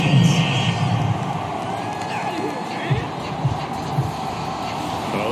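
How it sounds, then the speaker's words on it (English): A stadium crowd reacts to a penalty call at a football game, with a broad, continuous roar and scattered shouts and thumps under the steady talk of commentators. "Well, this crowd does not like that call."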